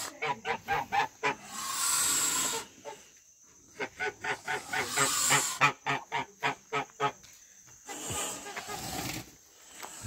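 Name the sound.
geese honking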